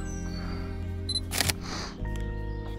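A camera fires a single quick shutter click near the middle, set off by a KOSPET TANK T3 Ultra smartwatch remote outdoors on a mountain bike tour, with a low steady hum throughout.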